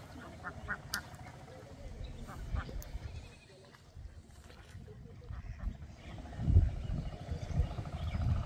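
Native domestic ducks near a pond quack in scattered calls, fairly faint and somewhat distant, with a low background rumble and a voice speaking.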